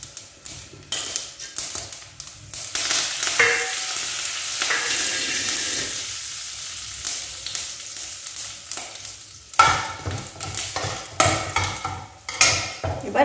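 Curry leaves fry in a hot pan with a loud sizzling hiss that surges and fades, broken up by repeated taps and scrapes of a spoon against the pan.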